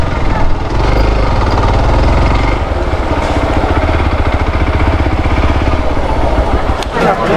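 A motorcycle engine runs steadily close by, a loud, continuous throbbing rumble with a fast pulsing beat that barely changes while the bike is being parked.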